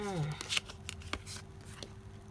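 Tarot cards are handled and laid down in a few soft, crisp snaps and slaps, spaced irregularly and close by, after a brief vocal sound at the start.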